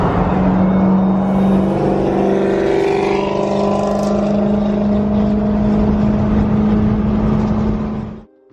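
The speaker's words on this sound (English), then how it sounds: "the sound of engines revving cuts through the night as racers begin to show off their builds" A car engine revving hard at a night street race gathering, loud and close with a sustained droning roar and rising pitch that cuts off abruptly at the end.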